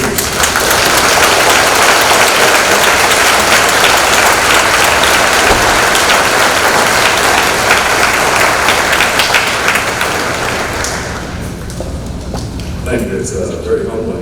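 Sustained applause from an audience at a St. David's school Veterans Day assembly as a speaker is welcomed, steady and full for about ten seconds before tapering off to scattered claps.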